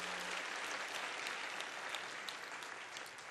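A church congregation at a 2012 university retreat's opening worship service applauds, a dense steady wash of clapping from many hands in a large room, sustained throughout.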